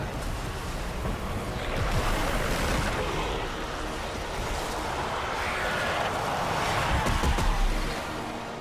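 Roaring, surging water from a boss's wave attack in a video game, a continuous loud wash of crashing surf that swells and recedes for several seconds without talk.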